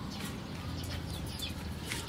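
Quail calling out in the province, a few short chirping calls rising over a steady low background hum, moderately close and fairly faint.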